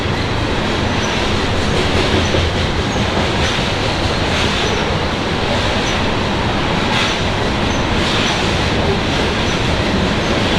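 Loud, steady rumble of a passing train close by a cemetery in West Point, Kentucky, wheels clattering on the rails with occasional squeal, no voices.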